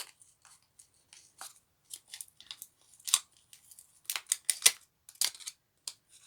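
Close, crisp snips of scissors cutting through plastic, irregular crunchy clicks and short tearing bursts with quiet gaps between.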